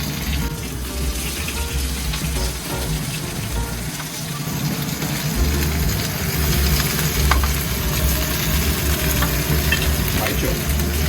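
Potatoes and chicken frying in a pan for Spanish garlic chicken give a loud, continuous sizzle, with stirring and scraping sounds throughout.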